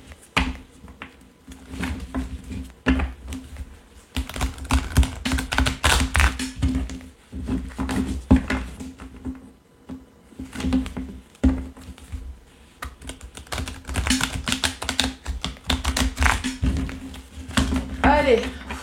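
Rapid, crisp flicking and tapping of tarot cards being shuffled by hand, coming in dense bursts with short pauses, close and fairly loud, with a low steady hum underneath.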